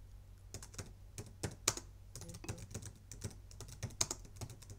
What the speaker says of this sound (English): you can just type in your answer here